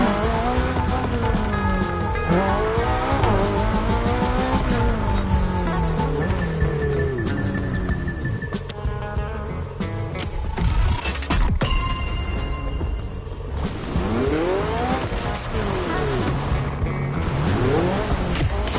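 A BMW Z races in The Crew video game, its engine revving and rising through gears while tires squeal repeatedly in skids, loud and continuous.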